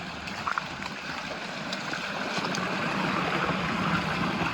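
Heavy water pours over a small hand-built rock waterfall in a drainage stream, a steady, dense, close rushing roar with a few faint clicks early on.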